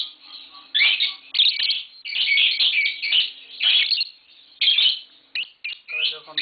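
Indoors, a pair of green Fischer's lovebirds keeps up a loud, close run of high squawky chirps and twitters in rapid uneven bursts with short pauses; no one speaks.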